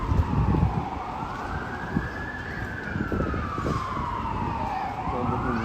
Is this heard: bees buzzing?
no